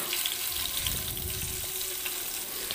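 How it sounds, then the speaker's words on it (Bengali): Paneer pieces fry in oil in a pan with a steady close sizzle and light crackle throughout, no one talking. "এপিট ওপিট করে হালকা হালকা লাল লাল করেই আমি ভাজবো পনিরগুলো।"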